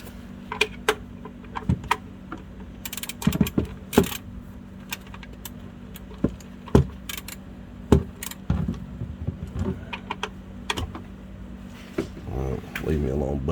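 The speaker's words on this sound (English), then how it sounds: "I'm getting ready to torque this down" A wrench tightens the oil drain bolt on a 2013-2019 Dodge Caravan SXT V6, producing scattered sharp metallic clicks and taps close by, mixed with someone talking over a steady low hum.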